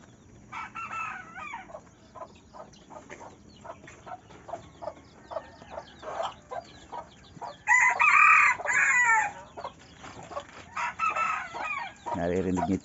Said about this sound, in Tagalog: Mga talaok, ayun, narinig niyo talaok na yun.